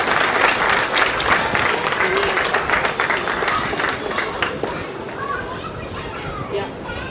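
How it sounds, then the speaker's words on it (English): A large audience at a children's storytelling event applauds loudly and steadily, the clapping thinning slightly toward the end while cheers and a voice mingle in. "Let's give a big round of applause for her."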